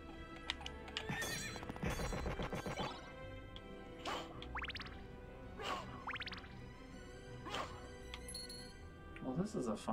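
Several horse neighs and whinnies ring out over clip-clopping hooves and game music in Castlevania: Symphony of the Night, with a voice talking over parts of it.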